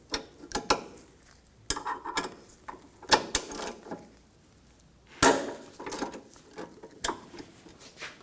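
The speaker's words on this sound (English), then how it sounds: "For this one, you're going to have to use a long extension, the same 10mm socket." A ratchet with a long extension and 10mm socket works bolts on the side of the lower radiator support of a 2013-2019 Ford Escape 2.0L four-cylinder, producing close bursts of clicking and clunks separated by short pauses.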